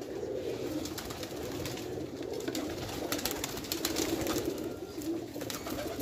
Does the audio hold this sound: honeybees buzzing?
no